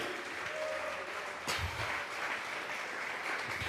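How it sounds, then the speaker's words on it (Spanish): A church congregation breaks into broad applause, steady and dense throughout, with a sharp clap-like burst midway and a faint held tone early on. "Vamos a regalarle ofrenda de palmas al Dios de la gloria."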